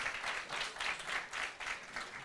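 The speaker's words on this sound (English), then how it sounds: "Please applause for our judges." An audience at a sommelier competition final applauds the jury, a soft, distant patter of many hands clapping in uneven bursts throughout, with no speech over it.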